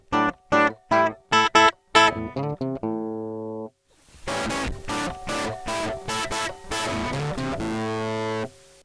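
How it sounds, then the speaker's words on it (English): A harsh, buzzy digital hard-clipping distortion plays a choppy run of short notes, then a longer phrase of sustained, gritty notes, loud and up close. "So distortion simply takes the input signal, operates a hard limit, and rescales the output."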